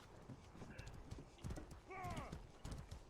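Horse hooves clip-clop rhythmically in a medieval war video game, mixed with a horse's whinny and scattered battle noise, all fairly faint with distant voices underneath.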